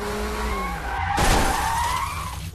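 A blue car and a police car in a racing video game, with loud skidding and tire squeal sweeping up over engine noise, close and lasting a couple of seconds.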